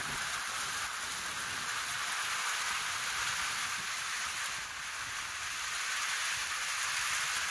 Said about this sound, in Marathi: एकदम जबरदस्त अवकाळी पाऊस आहे